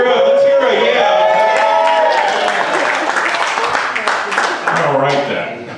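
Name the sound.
audience cheering and applauding at comedy show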